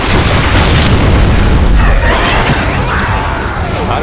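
A grenade blast in Gears of War 3 on Xbox One: a loud, heavy boom with a deep rumble that fills the clip, then decays into a lingering crackling tail.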